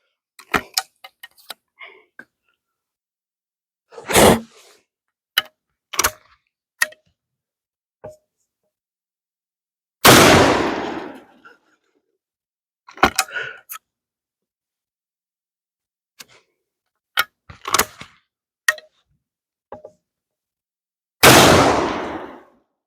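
Homemade black powder shotgun shells fire outdoors in sharp, booming blasts, several loud shots spaced seconds apart, with scattered small clicks and handling noises in the quiet between them.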